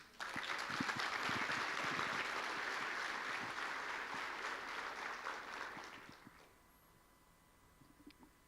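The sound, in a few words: applause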